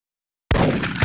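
A single sharp, loud gunshot from the arcade hunting game Big Buck Hunter Pro bursts out after half a second of silence and rings on briefly.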